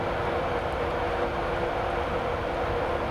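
A Class 91 electric train in Train Simulator 2015 rumbles through Hitchin station, a steady loud roar of wheels and motors with no pauses.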